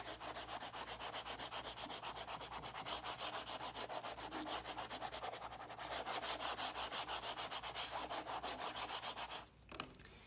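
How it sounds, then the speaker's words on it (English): A tool scrapes transfer tape flat over a unicorn decal with a close, continuous, rhythmic rubbing that runs for about nine seconds, then stops abruptly. "We're going to give it a nice scrape."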